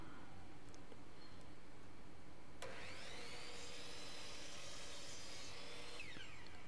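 A miter saw bites into a piece of wood, one cut starting abruptly partway through with a steady high whine and grinding rasp that stops near the end; faint, quiet shop background before it.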